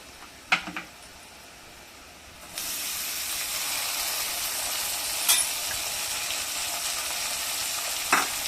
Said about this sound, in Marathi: आणि टॅमॅटो छानसे परतून घेऊया